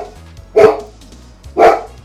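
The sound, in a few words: dog barking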